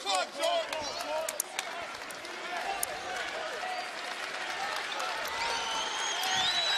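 Arena crowd noise at Hilton Coliseum during a college basketball game between Iowa State and Florida A&M, a steady roar of cheering and clapping with sneaker squeaks and a commentator's voice over it throughout.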